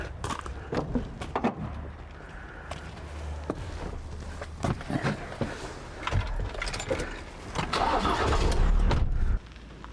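A car engine cranks and starts nearby, then settles into a low idle before revving up louder, with car door thuds and footsteps around it.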